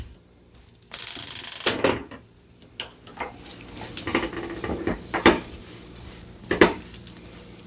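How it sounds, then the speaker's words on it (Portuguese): A spoon stirs and scrapes the bottom of a thick iron-bottomed pan of creamy Paris and shiitake mushroom risotto, making irregular close scrapes and soft clinks. A loud bright burst of noise comes near the start. "Pegar no fundo aqui, o fundo da panela para misturar."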